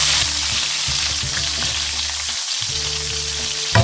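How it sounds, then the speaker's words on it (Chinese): Cut scallion segments fry in a little hot oil in a pan, giving a loud, continuous crackling sizzle with stirring scrapes throughout and a brief lull near the end. "锅中倒入少许油，油热后加入葱段爆香"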